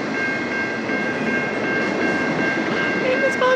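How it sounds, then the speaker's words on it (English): A CN freight train on the Dundas subdivision rolls past with a maintenance boxcar, giving a loud, steady rumble and rail roar with faint squeal tones throughout. "Maintenance boxcar!"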